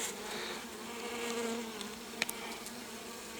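Honey bees buzz steadily around an old log hive in early spring as the colony is moved into a framed hive, a soft continuous drone with a few brief louder passes near the end, no talking.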